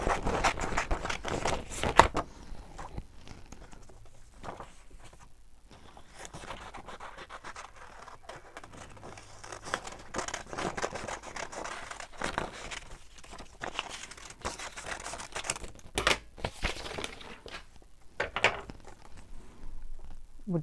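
Scissors snip around paper flower shapes in close, quiet fussy cutting, with irregular small scratchy cuts and rustling of paper across a long stretch, with no talking.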